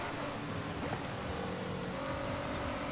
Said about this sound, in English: Car sounds good, too.